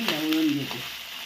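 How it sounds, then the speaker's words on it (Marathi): Peanuts fry in a pan while being stirred, giving a brief close sizzle with a soft scrape of the stirring, lasting just over a second. "आता आपण हे घालूया शेंगदाणे। हे मी ढवळून घेते।"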